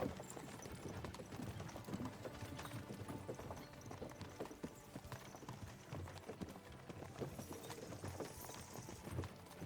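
Horse hooves clip-clop steadily on hard ground in the medieval setting of Kingdom Come Deliverance 2, several horses walking at a slow pace, fairly quiet and continuous with uneven overlapping beats.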